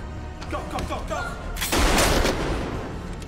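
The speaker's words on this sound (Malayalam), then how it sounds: "പിന്നീട് ഷിപ്പിലെ തിയേറ്റർ സീനിൽ ജെസ് മാസ്ക്ഡ് കില്ലറിന് നേരെ വെടി ഉയർത്തുന്നു." Gunfire in a ship's theater scene from the 2009 film Triangle: a quieter stretch with faint voices gives way to a sudden loud, close cluster of sharp shots about halfway through, then fading echoes.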